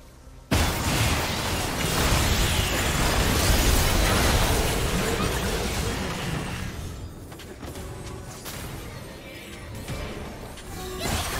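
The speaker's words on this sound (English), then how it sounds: "team's turret has been destroyed" Turret destruction blast in League of Legends, a sudden loud burst that stays dense and rumbling for several seconds before slowly fading into busy game noise.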